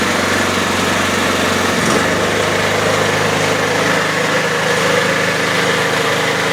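A gas-fuelled generator runs steadily and loudly up close, with a constant engine drone and a slight shift in tone about two seconds in, and no voices.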